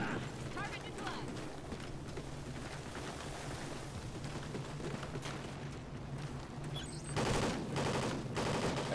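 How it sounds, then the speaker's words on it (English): Gunfire in Call of Duty: Ghosts: dense, continuous rattling bursts of automatic fire under a low engine-like rumble, growing louder and harsher near the end. "I hear gunplay."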